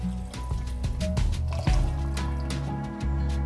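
Water poured into a pot of sautéed squash, with a close splashing trickle and dribbles, plus a few knocks and clinks over a steady low background hum.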